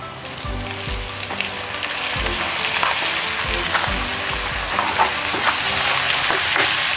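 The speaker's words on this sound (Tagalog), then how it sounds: "At this point, pwede na natin i-add yung ating sliced mushroom." Sliced mushrooms hitting a hot pan for chicken carbonara, a continuous crackling sizzle with occasional louder pops and soft low knocks of stirring, steady and close throughout.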